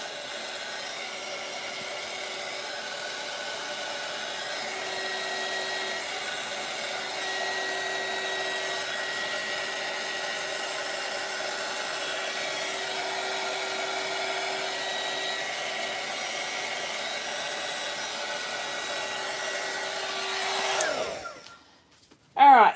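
A hair dryer blows air over wet resin on a sunset clock craft piece, a steady loud whooshing hum lasting about twenty seconds before it cuts off abruptly at the end.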